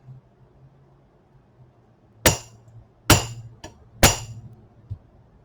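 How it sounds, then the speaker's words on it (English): A metal hammer strikes the rails of a snare drum to flatten them, four sharp ringing taps spaced about a second apart over a faint low hum, close and alone. "I'm going to use my metal hammer here to get things nice and flat"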